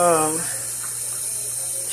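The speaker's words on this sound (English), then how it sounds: "what I'm doing now is letting water run in here and cold to cool off and stop the cooking" Cold tap water runs steadily over boiled sweet potatoes in a kitchen sink or pot, a close, continuous hiss and splash following a brief voice at the start.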